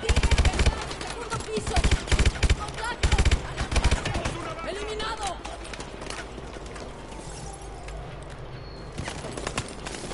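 Rapid gunfire bursts from the video game Call of Duty: Advanced Warfare, loud clustered volleys early on, then sparser shots and footsteps with players talking over the action.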